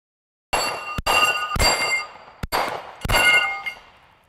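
Rifle shots ringing off a steel Texas star spinning target: five loud, sharp metallic clangs in rapid succession, each with a bright ringing decay, close and alone with no talking.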